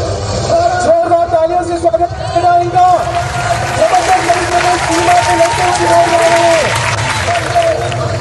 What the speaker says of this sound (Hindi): जोरदार तालियों से स्वागत करना इनका।